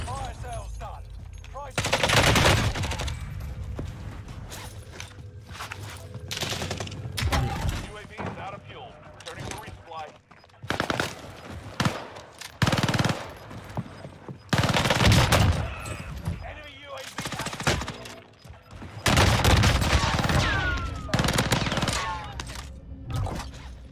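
Grau assault rifle fire in a video game, repeated loud bursts of rapid automatic shots separated by short pauses, with a voice talking over the action.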